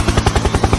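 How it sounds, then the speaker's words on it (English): Helicopter in the video game Dude Theft Wars, a loud, close rotor chop beating rapidly and evenly with a dense engine roar underneath, heard alone in a brief burst. "Helicopter, helicopter."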